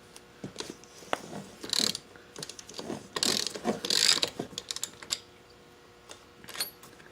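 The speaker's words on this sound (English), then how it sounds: "pop off this castle nut." A ratchet wrench loosens a castle nut on an ATV wheel hub during a tire swap, giving bursts of close, quick metallic clicking with short pauses between strokes.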